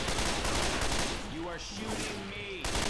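Rapid bursts of gunfire ring out in the Left 4 Dead 2 zombie shooter on the Dead Center campaign, fairly loud, while a voice speaks over the shots.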